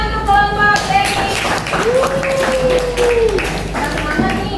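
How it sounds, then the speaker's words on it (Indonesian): A classroom group applauds another group of students, a fairly soft, steady patter of many hands clapping that runs under a speaking voice and a rising, drawn-out vocal tone. "tepuk tangan untuk kelompok Denis."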